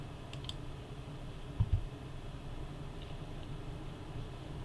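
A computer mouse clicked during a software installation on Windows 11, a couple of faint close taps against a quiet low room hum, no talking.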